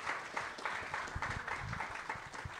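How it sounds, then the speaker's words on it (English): Applause for Josh Jones's 24th birthday during a live Clubhouse session: fairly faint, scattered clapping with uneven bursts, heard at a distance and a little muffled. "give him a round of applause"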